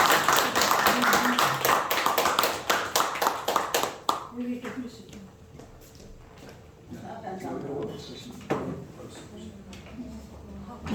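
A church congregation claps in praise for a singer being welcomed to the front, with a few seconds of dense applause that fades into scattered claps and taps while people talk.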